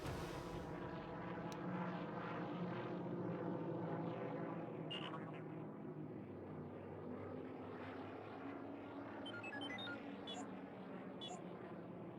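A spacecraft fighter in a Clone Wars roleplay game flies in to land with a steady droning engine hum and rumble that gradually fades. A short electronic chirp sounds partway through.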